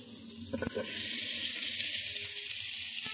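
Boiled potatoes are dropped into spices frying in a pan for an egg curry, setting off a loud, steady sizzle with a few clanks of the spoon near the start.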